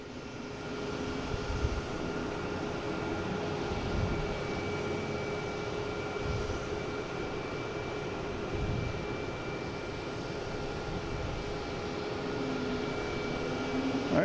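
An American Airlines Airbus A319 jet airliner takes off at Boston Logan, its engines making a steady, broad roar that holds fairly even throughout at moderate distance, with a faint constant tone layered over it.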